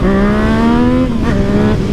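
A modified 2020 Yamaha MT-09 motorcycle engine revs hard and loud, its pitch climbing steadily under acceleration, then briefly dipping and climbing again as it shifts.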